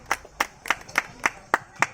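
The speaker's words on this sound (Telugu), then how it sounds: "ఒకసారి అందరూ గట్టిగా క్లాస్ కొడదాం" Audience clapping at a skit performance, heard as a steady rhythm of sharp, evenly spaced claps, about seven in two seconds, close and crisp with no talk.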